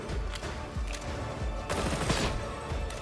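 Rapid gunfire from a Warhammer video game weapon at its maximum fire rate, a dense, steady stream of shots running unbroken and loud for the whole stretch.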